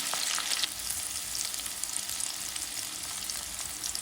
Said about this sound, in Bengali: দিয়ে দেব তেল, দিয়ে দিলাম পেঁয়াজ, দিয়ে দেবো কাঁচা মশলা